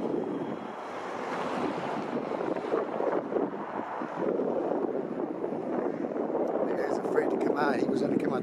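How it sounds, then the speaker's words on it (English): Wind blowing outdoors near a U.S. Border Patrol station, a steady broadband rush buffeting the microphone throughout, with a voice speaking faintly underneath. "There's a little bit of wind."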